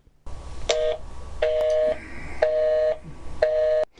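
Phone call to a state unemployment office line: four short, repeated electronic tone bursts with brief gaps between them, heard alone and fairly clear.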